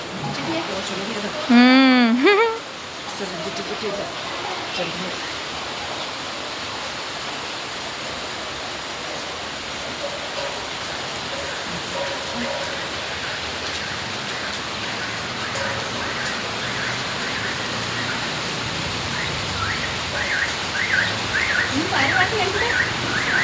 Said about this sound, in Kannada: ನೋಡ್ರಿ ಮಳೆ ಶುರು ಆಯ್ತು ನೋಡ್ರಿ ಜಿಟಿ ಜಿಟಿ